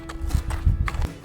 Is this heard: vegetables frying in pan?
no